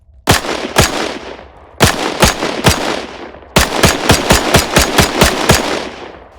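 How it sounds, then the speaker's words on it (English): M1 Carbine gunfire in the IFA3 Lite mod for a war video game, loud close semi-automatic shots arriving in three bursts that quicken toward the end, with no talking. "Here's the M1 Carbine."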